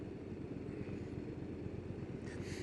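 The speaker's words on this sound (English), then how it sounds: "Another motorcycle coming up behind." A motorcycle approaches from behind at speed on an open road, heard as a steady engine drone under constant road and wind rush, with no clear rise or fall and no speech.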